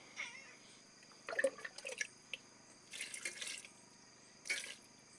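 Water from a glass poured into goat adobo cooking with soy sauce in a pan, giving short splashing bursts followed by a few more brief pours, close and fairly quiet with no talking.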